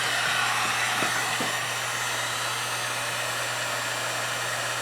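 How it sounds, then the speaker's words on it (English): A heat gun blows on a soldered wire connection with shrink tubing during a custom dash build for a Suzuki DR650, giving a constant close whooshing fan roar with a steady motor hum. "I'm going to use my solder gun, or my heat gun, and I'm going to heat that connection"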